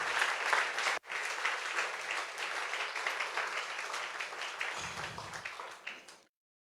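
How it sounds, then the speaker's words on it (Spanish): A crowd claps steadily in sustained applause, broken by one brief cutout near the start, before it ends abruptly. "Denle un aplauso al Señor acá bien mejor."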